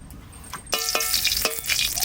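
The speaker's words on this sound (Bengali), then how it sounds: "শাকটা ভাজা করব, কড়াইতে তেল দিচ্ছি।" Oil heats in a wok for frying greens, starting as faint crackle then jumping to a brighter, hissing sizzle with a few sharp spits, close and moderately loud.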